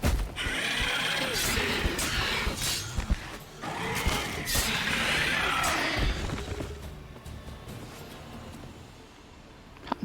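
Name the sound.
horse neighing in a video game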